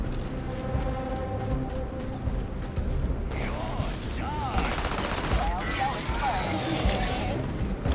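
Gunfire in the space game Starfield, rapid bursts of weapon shots layered with mechanical clanks and creaks, dense and loud for the whole stretch, with a sharper hissing burst of fire in the latter half.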